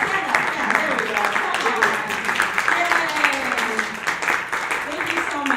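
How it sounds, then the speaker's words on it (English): Audience applause at a League of Women Voters housing forum as people stand to be recognized, steady clapping filling the room under a speaking voice. "If you could stand, we'll give you an applause."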